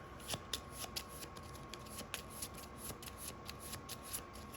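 Cards are shuffled close by, a soft rapid riffling with sharper snaps as the deck is bridged and tapped, quiet overall.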